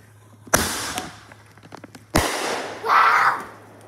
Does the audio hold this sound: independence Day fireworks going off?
yes